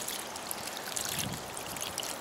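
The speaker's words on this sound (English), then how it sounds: "I'll let the water drain out and make sure there ain't no dirt in there." Water drains steadily out of an opened drip irrigation line, a soft continuous trickling and splashing, close and fairly faint, with no talking.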